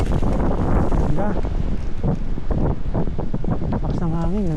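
Strong wind buffeting the microphone at an outdoor grotto, a constant loud rumbling gust that runs under people talking throughout.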